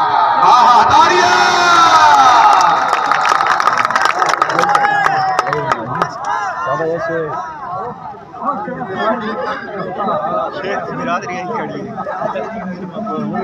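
A crowd at a sports match in Dajal, Bhakkar district, claps and cheers loudly, a dense roar of hands and voices with a commentator's voice calling over it and chatter continuing throughout.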